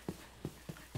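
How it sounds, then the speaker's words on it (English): Horse hooves in Minecraft clip-clop four times at an uneven pace, soft and fairly faint, with no voices over them. "Oh, there's a horse right there."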